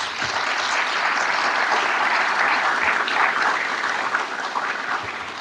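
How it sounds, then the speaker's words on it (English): A congregation applauds at a religious gathering on Islam and Christianity, a dense, even roar of clapping hands that holds steady for several seconds without speech over it. "Let's give them all a round of applause."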